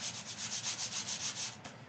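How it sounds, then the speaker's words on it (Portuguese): Hand sanding with 220 grit sandpaper, a steady run of about a dozen quick back-and-forth rasping strokes, close and even, with no talking. "E eu tô lixando aqui com a lixa 220."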